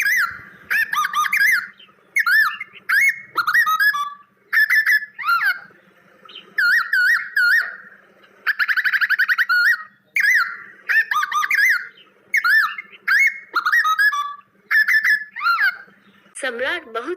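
Bird-like whistled song meant as a nightingale singing to an emperor, repeated warbling phrases in bursts with short pauses, bright and fairly loud over a faint low hum.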